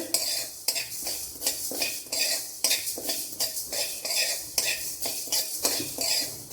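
Urad dal and dried red chillies are dry-roasted in a pan for an Onam-style gooseberry pickle, with a spoon scraping and clattering against the metal in a quick, steady rhythm, close and clear, with no talking.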